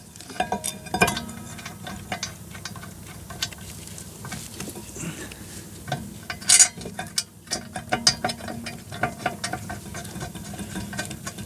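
A ratchet drives caliper bracket bolts on a 2017 Chevy Cruze during a driveway rear brake job, making irregular quick bursts of clicking with short pauses and some clanks, fairly close.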